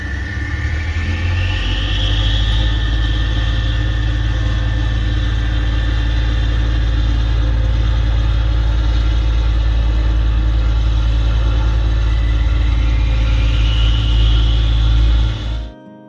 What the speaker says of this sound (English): The motors are running constantly, of course.